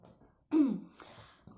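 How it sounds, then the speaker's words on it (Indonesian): One deliberate throat-clearing cough, a short gruff 'ahem' close to the mic, surrounded by near silence. "Batuk jaim."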